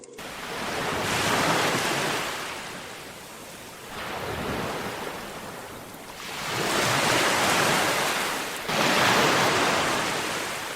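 Ferocious ocean waves off the southern Australian coast in Bass Strait surge and crash in repeated loud swells, a broad roaring wash rising and falling with wind noise and no voices.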